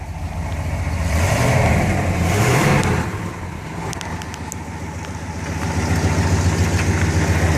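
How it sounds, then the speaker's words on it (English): A 1971 Pontiac T-37 engine idles with a small exhaust leak, a steady low rumble that swells and dips slightly with a brief rise in revs, heard close and alone. "I think it's got a little exhaust leak."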